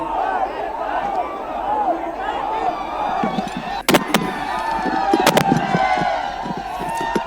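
Large outdoor crowd of Maratha protesters and supporters, a dense, continuous murmur of many voices with scattered shouts, claps and sharp bangs, loud and close throughout.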